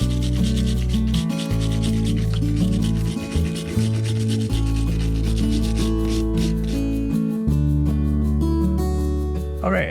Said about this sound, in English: I think we got this cleaned up pretty well with the Dremel and wire brush